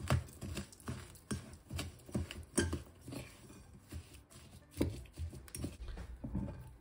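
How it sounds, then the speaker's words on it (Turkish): A fork scrapes and presses through butter, oil, powdered sugar and vanilla sugar in a bowl for jam cookie dough, giving uneven close taps and clinks against the bowl with no talk. "pudra şekerini, vanilya şekerini, sıvı yağ ve tereyağımı güzelce çatalımla eze eze karıştırdım"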